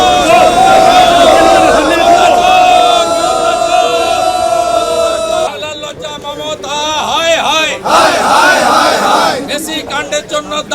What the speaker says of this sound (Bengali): বিধাননগর কমিশনারেটের সামনেই উঠল চোর চোর স্লোগান।